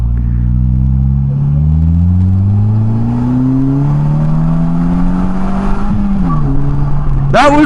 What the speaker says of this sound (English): That was wheel spin in third gear.